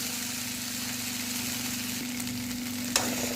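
Okra (ladies finger) sautés in a pan for a Tamil-style fry, giving a steady soft sizzle over a constant low hum, with one sharp clink near the end.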